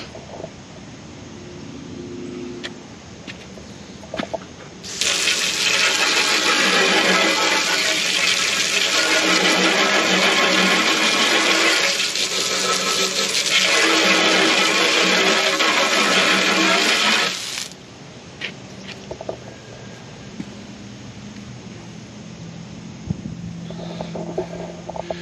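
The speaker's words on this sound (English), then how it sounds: "What do you say we hose the shovel off" A hose sprays water onto a shovel in a loud, steady hiss lasting about twelve seconds, close by, with quieter background before and after and no speech.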